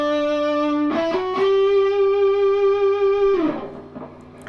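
Electric guitar through distortion and effects plays the opening of a solo, a few quick notes rising into a long sustained singing note, then a bend and release, loud and alone.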